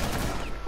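A short, loud burst of gunfire in the game Rainbow Six Siege during a hostage round, lasting under a second with no talk.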